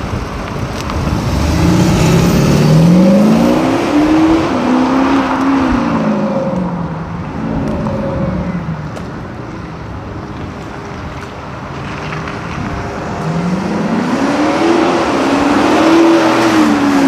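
Audi SQ5 diesel engine accelerating from inside the car, a loud, throaty drone rising in pitch through the gears, easing off midway, then climbing again under steady road and wind rush.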